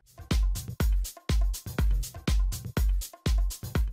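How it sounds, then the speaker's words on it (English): A punchy electronic drum groove with deep kicks and crisp hits repeating in a steady, even rhythm, loud and dry with nothing else playing. "So it starts with a drum groove that sounds like this."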